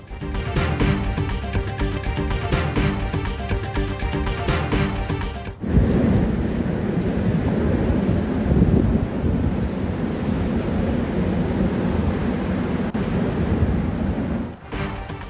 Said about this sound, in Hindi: अमरीकी रियासत लुजियाना में समुद्री तूफान की तबाही।